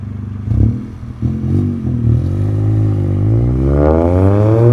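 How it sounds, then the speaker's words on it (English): Toyota GR Corolla with a 2J Racing exhaust pulling away from a standstill, a loud, close exhaust note rising steadily in pitch as it accelerates through the revs. "You can hear the exhaust."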